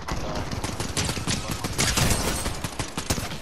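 Rapid gunfire in the video game Fortnite, a dense, loud, continuous barrage of overlapping shots with no pauses across the whole stretch.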